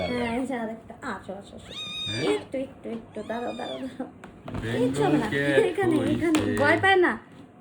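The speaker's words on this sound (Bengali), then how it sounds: "হ্যাঁ বেঙ্গল ক্যাট" A Bengal cat at a veterinary clinic meows repeatedly in drawn-out, rising and falling cries, close and fairly loud, with people talking nearby in between.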